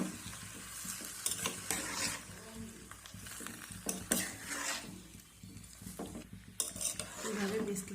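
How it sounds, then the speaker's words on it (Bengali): Tomatoes with a splash of water are stirred in a wok, a close sequence of metal spoon scrapes and clinks over a soft bubbling sizzle, with no voices. "এবার একটু আমি নেড়ে ছেড়ে দেবো।"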